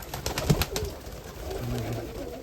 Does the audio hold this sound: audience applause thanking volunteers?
no